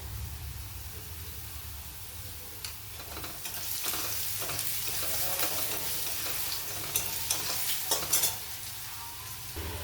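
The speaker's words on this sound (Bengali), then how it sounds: "সামান্য পরিমাণে আলু ভাজায় দেবো, হলুদ দেবো।" Small diced potatoes fry with turmeric in a pan, producing a constant hissing sizzle, with a run of stirring clicks and scrapes that grows busier toward the end, and no speech.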